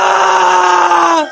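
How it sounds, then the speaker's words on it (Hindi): A man lets out a single sustained, loud scream that holds steady for over a second before cutting off abruptly. "की चीखने की आवाज आती है।"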